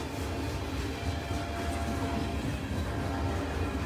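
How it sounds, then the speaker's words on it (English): A CSX southbound grain train rolling away past the old L&N depot in Hopkinsville, a steady broad rumble and rattle of wheels on rail that holds at an even level throughout with no voices. "That's what our train looks like going away."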